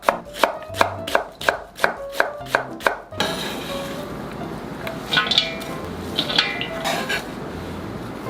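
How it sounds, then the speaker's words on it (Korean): Peeled radish being julienned into thin strips with a knife, a quick run of about ten crisp, evenly spaced board chops up close, then quieter scraping and clinking of kitchen utensils. "두껍지 않게 얇게 채 썰어주세요"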